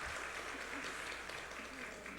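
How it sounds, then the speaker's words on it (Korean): A church congregation claps in praise during a Sunday service, a continuous, fairly quiet wash of applause with no clear individual claps, heard from some distance in a reverberant hall. "하나님께 영광의 박수 드리도록"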